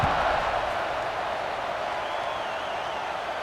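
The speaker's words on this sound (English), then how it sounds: "this crowd is buzzing after that last score." Stadium crowd noise in a college football video game, a steady loud roaring murmur of many voices sustained throughout after a score.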